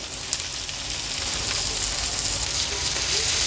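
Onion and thecha sizzle steadily in hot oil in a pan, a dense crackling hiss heard up close with no talking.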